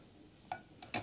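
Hamburger patties of beef frying in a hot pan, a faint steady sizzle with a few sharper crackles and spatters near the end.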